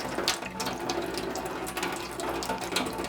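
A Tineco cordless vacuum filter is rinsed under a running tap, water splashing steadily and fairly close throughout with small shifting spatters.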